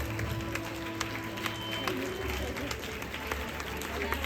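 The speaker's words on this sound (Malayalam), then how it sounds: "നമ്മൾ ഈ കൈയടിക്കുന്നത് നമുക്കും കൂടി വേണ്ടിയിട്ടാണ്." Audience applauding at the close of a graduation-style ceremony, a steady wash of clapping from a crowd in a hall, continuous and moderately distant, with some voices mixed in.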